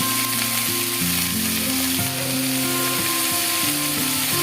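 Green chilies and salt go into hot oil along with leafy nata greens, giving off a loud, continuous sizzle that fills the whole stretch. Faint scraping from stirring sits underneath, and a steady tonal hum runs in the background.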